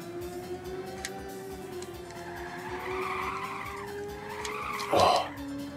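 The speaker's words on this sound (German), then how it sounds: "Ich gehe auf die Bremse." A racing car in Ridge Racer on the PS1 drives with a steady engine drone, its tires squealing in a rising skid as it brakes, peaking in a loud screech near the end.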